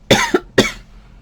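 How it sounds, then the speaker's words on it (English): A woman coughs twice in close succession, two sharp, loud, breathy bursts about half a second apart, the first with a quick follow-up catch, then quiet. "And just start coughing."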